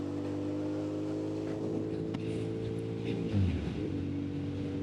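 A 1998 Yamaha XJ600N motorcycle hums steadily while being ridden, a low engine drone with wind rush, briefly swelling near the end.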